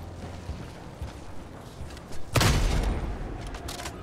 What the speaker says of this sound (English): The explosive mortar will take out most of the small enemies